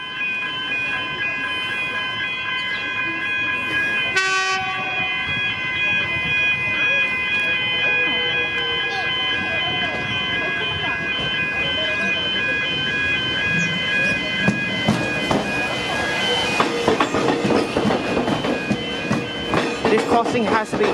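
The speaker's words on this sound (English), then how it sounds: "X-type on the down Frankston train." X-type locomotive hauling a down Frankston line train past a slow-speed tram crossing at Glen Huntly, a sustained rumble with horn-like tones, growing louder and busier toward the end amid background voices.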